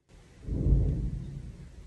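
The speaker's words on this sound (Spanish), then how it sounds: "¿Y el trueno de fondo?" A single soft roll of distant thunder swells and fades over about a second and a half, low and muffled, heard alone without talk.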